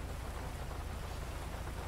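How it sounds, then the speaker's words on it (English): Heavy rain pours steadily in Grand Theft Auto V, a dense, even wash of drops drumming down without letup, close and enveloping, with no voices over it. "If it wasn't raining so hard, it probably wouldn't matter as much."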